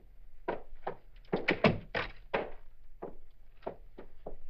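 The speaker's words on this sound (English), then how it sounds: "Now, let me open the door, Eileen." Radio drama door sound effect: a series of hollow thunks and knocks, a key and latch rattling, and the door opening, in uneven clusters of about a dozen close, distinct hits with silence between them.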